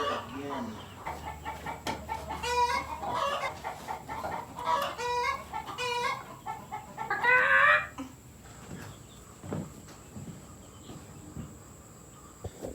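Chickens in a brooder cluck and squawk in bursts of short harmonic calls, loudest near the middle. The calls fade to sparse, quieter clucks toward the end, with a faint insect-like hiss underneath.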